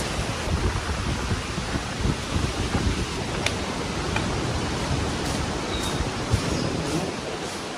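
A strong typhoon under storm signal number 4 on Polillo Island roars as a dense, continuous wash of wind and driving rain, loud and unbroken with rumbling low gusts throughout.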